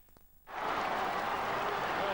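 A crowd of 25,000 at AAMI Stadium in Adelaide roars at an Australian football match, the cheering swelling suddenly after a quiet half-second and holding loud and sustained.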